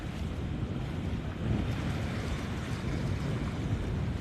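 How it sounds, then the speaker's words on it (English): Ocean waves and wind buffet a yacht running through rough water at Haulover Inlet, a steady loud rush of surf and wind noise with a slight swell partway through, no voices. "Yachts are supposed to have some kind of a mechanism to counter the waves so they can go straight through them"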